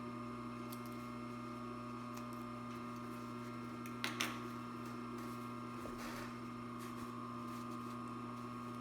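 A fast-running Columbia N430-2 industrial sewing machine, made in Japan and recently overhauled, gives a faint, steady mechanical hum and whir with a few light clicks, and no one speaks.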